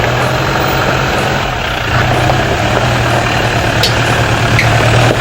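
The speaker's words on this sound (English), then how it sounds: "Idling this obstacle out as always, surprising us with his powerful engine" A Jeep engine idles low and steady while crawling over an off-road obstacle at a Hennops 4x4 trail, a continuous heavy rumble close by with no talk.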